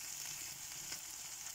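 Spices and softened onions fry in a pan, giving a continuous, even sizzling hiss at moderate loudness with no voices.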